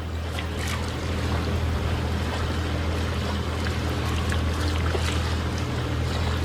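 A sailboat moves at about 6 knots over flat sea off Curtis Island near Gladstone, giving a constant rushing wash of water and wind with a low hull rumble, steady and close throughout.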